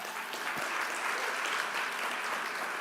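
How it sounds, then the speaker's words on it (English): An audience claps steadily through the whole stretch at a charity fundraising event, a dense and even wash of applause at moderate distance with no talking over it. "Give yourselves a round of applause."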